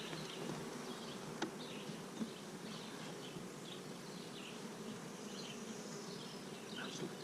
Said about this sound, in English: So, Russian bees hate this thing too.